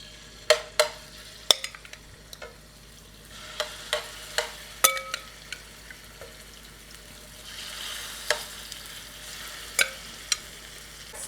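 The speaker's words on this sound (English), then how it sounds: "You'll hear that little sizzle." Light sizzling and crackling of oil in an electric frying pan, with sharp clicks and pops scattered throughout, fairly quiet and close.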